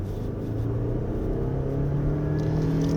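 A 2023 Lexus RX350h hybrid pulls away on a winding road in eco mode, giving a steady, muted low engine and motor hum that swells slightly as it gathers speed, heard close from inside the cabin.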